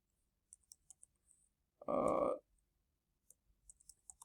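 Clicks of typing on a computer keyboard while coding, sparse taps in short bursts on either side of a louder, broader noise burst near the middle.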